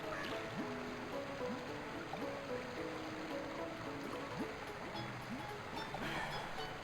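Steady flowing water in the Chao World garden of Sonic Adventure 2, a continuous wash of noise beneath light melodic game music, with no bursts or pauses.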